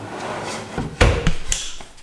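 A drawer slides and knocks into place in a workshop organizer, a couple of sharp wooden clunks and rattles near the middle, close and loud over a low background rumble.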